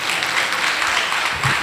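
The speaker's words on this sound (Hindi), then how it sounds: "एक बार आपकी तालियां उनके लिए बजना चाहिए" An audience at a poetry gathering claps together, a brief, loud burst of dense applause filling the whole moment.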